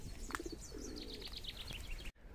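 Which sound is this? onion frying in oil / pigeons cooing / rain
pigeons cooing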